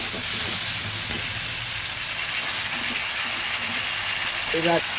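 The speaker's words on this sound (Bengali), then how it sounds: "ভালোভাবে নেড়ে দিচ্ছি" Vegetables with salt and slit green chillies fry in a pan while being stirred. A loud, constant sizzling hiss fills the scene with a few faint knocks, and a voice is briefly heard.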